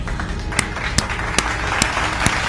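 A few soft, separate hand claps at an uneven pace over a low background hum, kept quiet and close by.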